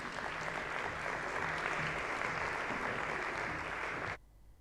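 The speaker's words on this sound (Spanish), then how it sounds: "Vamos a recibirles con un aplauso." A conference audience at a round-table session on green cities applauds the panelists, a steady burst of clapping that lasts about four seconds and then cuts off abruptly.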